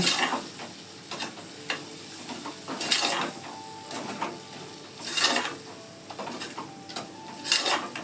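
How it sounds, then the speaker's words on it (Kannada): Fish frying in oil in a pan on a gas stove over a low flame, with a steady soft sizzle broken by several louder bursts of stirring and scraping against the pan. "ಹಾಕೊಂಡ್ಮೇಲೆ ಒಂಚೂರು ಫ್ರೈ ಮಾಡಬೇಕು ಇದನ್ನು ಎಣ್ಣೆಯಲ್ಲಿ"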